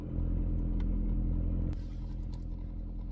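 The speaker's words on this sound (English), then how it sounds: "I'm letting the car warm up" A car engine idles steadily while warming up, a constant low rumble heard from inside the vehicle, with a brief clunk partway through and no one speaking.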